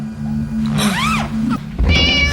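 A cat meows once in a dingy room piled with thousands of stacked newspapers, a rising and falling cry over a steady hum, followed by a brief second chirp and a burst of noise.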